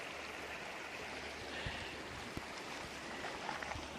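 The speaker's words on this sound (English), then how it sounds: "I'm getting water from" Whitefish Creek flowing, a faint, even rushing of water close by with occasional soft splashes, no voices.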